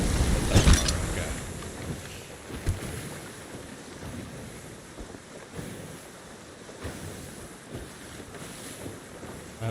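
A sailing ship running under full sail in Sea of Thieves, with continuous wind rush, creaking hull and washing waves, a louder gust and splash early on, then a steady broad roar.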